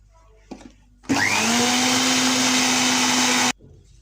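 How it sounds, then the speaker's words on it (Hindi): Electric grinder whirring as it beats eggs and oil for a fluffy chocolate cake batter, a loud steady motor drone running about two and a half seconds after a brief knock, then cutting off abruptly. "अब हम ग्राइंडर में अपने दो अंडे थे उनको क्या करेंगे, बीट करेंगे।"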